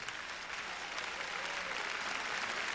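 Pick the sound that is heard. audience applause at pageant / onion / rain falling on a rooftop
audience applause at pageant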